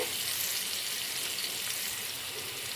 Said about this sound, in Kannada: ಅದನ್ನು ಹಾಕ್ಕೊಂಡು ಸ್ವಲ್ಪ ಹಸಿ ಸ್ಮೆಲ್ಲು ರಾ ಸ್ಮೆಲ್ ಹೋಗೋವರೆಗೂ ಚೆನ್ನಾಗಿ ಫ್ರೈ ಮಾಡ್ಕೊಬಿಡೋಣ